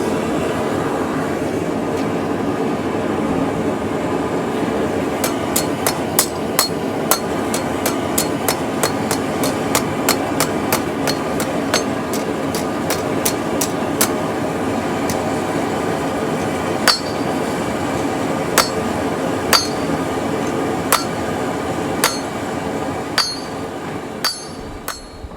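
A knife blade being hammered straight, with a run of sharp metallic strikes at an uneven pace over a steady low background hum, close and loud, later spreading into scattered blows, with no talking.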